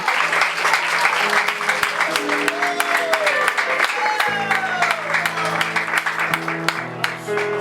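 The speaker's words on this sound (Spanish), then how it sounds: "Dale un fuerte aplauso al Señor, iglesia." A church congregation at an anniversary service claps loudly and continuously, with sustained organ or keyboard chords and scattered voices rising over the clapping.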